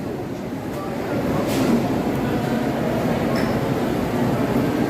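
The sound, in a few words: commuter train going to Stamford, Connecticut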